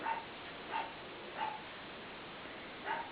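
A pet dog barks in a home craft room, four short, faint yaps spaced unevenly a little apart, heard from another room in the background with no talk over them.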